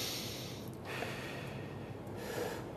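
Breaths drawn through a respirator during an OSHA 1910.134 fit test: soft, airy breathing noise runs throughout, with a couple of brief, sharper breath pulses, close to the mic with no talk.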